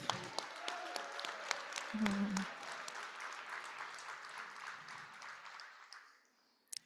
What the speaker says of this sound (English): Let's clap it up again for our youth.